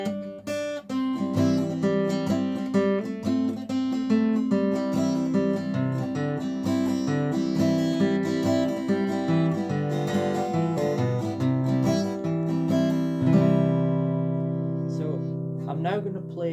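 Acoustic guitar in the Carter scratch style, a bass-note melody filled in with finger strumming, played close and steady with ringing strings throughout.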